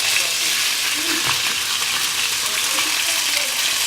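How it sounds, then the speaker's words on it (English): Rice noodles frying in hot oil in a pan for Pad Thai, a dense, steady sizzle and crackle that fills the clip, close and loud, with faint stirring and no talking. "let the oil soak into the noodles and let them fry for about 2 minutes"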